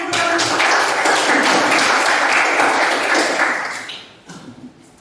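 A class of students applauding during a biology lesson, a dense burst of many hands that holds steady for about four seconds and then fades out, leaving a few scattered claps.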